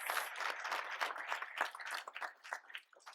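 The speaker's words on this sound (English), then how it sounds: "I also would love to have a round of applause for my amazing staff who make this stuff happen." A lunch audience at an economic forecast event applauds the staff, a short burst of fairly faint, uneven clapping that tapers off toward the end.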